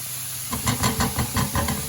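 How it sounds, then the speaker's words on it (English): Onions and garlic sauté in a pan, giving a close hissing steam and sizzle with rhythmic bursts, like stirring, pulsing through the second half. "Sauteed onions and garlic."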